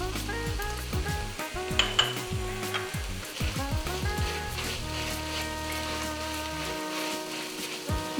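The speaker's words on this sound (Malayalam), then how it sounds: "നമുക്കിനി അരിഞ്ഞ് വെച്ചിരിക്കുന്ന ടൊമാറ്റോ ഇട്ട് കൊടുത്ത് നല്ലപോലെ വഴറ്റിയെടുക്കാം" Chopped tomato sautéing with onions in a pan for Kerala-style duck mappas, a steady close sizzle with stirring scrapes and clinks throughout.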